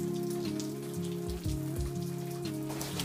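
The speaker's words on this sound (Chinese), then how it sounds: "今天哩哩啦啦下了一整天，现在还下着呢。" Steady rain falls through a long wet day, a close, continuous patter on surfaces with faint tonal sounds running underneath and no one speaking.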